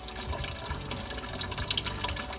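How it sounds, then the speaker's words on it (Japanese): Radiator coolant draining from the drain plug of a Nissan Lafesta B30, a continuous close trickle and splash of liquid with small drips throughout. "ラジエーターの液を抜いていきましょう。"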